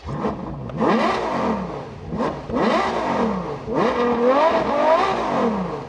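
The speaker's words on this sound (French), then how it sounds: "On déclenche le moteur." A warm Ferrari GTC4 Lusso engine revs hard in about three rising and falling bursts, its loud, close, snarling note climbing in pitch with each blip and ringing on without any talk.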